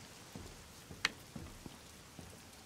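Soft steady rain falls in the video game The Medium, a faint hiss with scattered drip ticks and one brief sharp click, quiet and even throughout.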